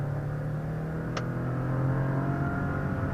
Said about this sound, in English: Alright, just like that, we accelerated from 20 to 70.